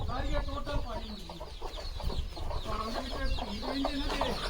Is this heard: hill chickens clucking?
yes